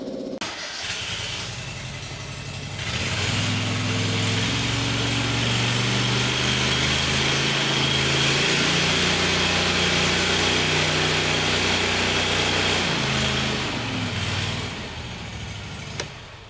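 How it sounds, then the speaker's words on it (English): A fire truck's pump panel engine starts up and runs steadily at a loud, close, constant level, holding a sustained hum for most of the stretch before easing slightly near the end. "and then you start your pump"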